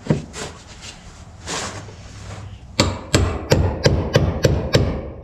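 Hammer blows drive a chisel against the fuel pump lock ring of a 2001 Chevy Silverado, a series of about eight sharp metallic knocks at a steady pace after some softer scraping and handling noise.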